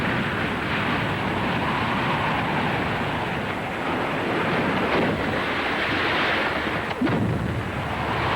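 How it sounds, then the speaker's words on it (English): Huge storm waves batter Holland's sea defenses in a dense, continuous roar of surf and wind, loud and broad with a few deeper thuds rising through the churning water. "And now these mountains of water begin their battering assault upon the sea defenses of Holland."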